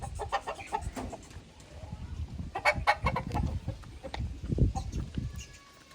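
Several chickens cluck and squawk nearby in irregular bursts on a farm in Pakistan, with a rooster's crow mixed in among the flock's chatter.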